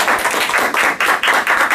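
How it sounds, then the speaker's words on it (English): A burst of clapping from a small group, dense and steady throughout, close and fairly loud with no voices. "That applause is for you and for you as well."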